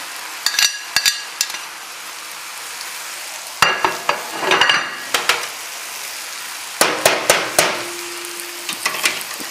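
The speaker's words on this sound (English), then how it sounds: "I'm going to throw the turkey in. Now it's going down very nicely." Turkey medallions sauté with vegetables in a hot pan, sizzling steadily while a utensil clatters and scrapes against the metal in repeated bursts of sharp knocks.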